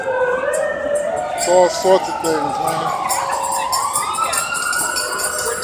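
An ambulance siren wails and sweeps through a city street near Union Square, loud and rising and falling, with someone speaking briefly over it and street noise around.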